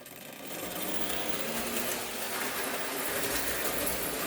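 A small electric motor runs laps without strain or overheating, giving a steady, continuous whirring rattle that stays even and fairly loud throughout, with no voices.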